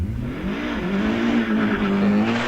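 A hillclimb race car sits on the start line at Wiscombe Park, engine droning loud and close with a steady, slightly rising rev note throughout.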